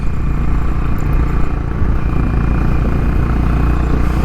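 Honda Highness motorcycle engine running while riding in the Spiti Valley around Kaza, a steady, dense low thrum with wind noise at constant loudness, no talk heard.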